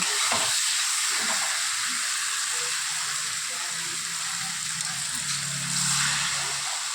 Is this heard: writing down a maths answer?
no